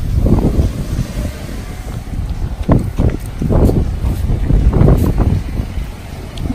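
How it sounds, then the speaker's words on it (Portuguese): Strong outdoor wind in Matsumoto, Japan, buffeting the microphone in loud rumbling gusts that swell and ease throughout, steady and close with no talk. "por conta do vento, que não para de ventar"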